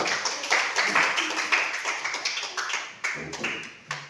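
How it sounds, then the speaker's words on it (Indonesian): Classroom applause from a group of students, a steady patter of fairly quiet clapping that fades near the end, with a brief voice at the close. "Rudi, tepuk tangan dulu."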